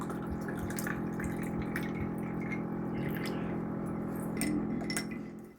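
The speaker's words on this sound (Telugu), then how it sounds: "కూలింగ్ వాటర్ పోసుకోవాలి." Cooling water is poured into a summer saunf sharbat over ice cubes with lemon, giving a steady, close trickle and splash with faint glassy clinks throughout.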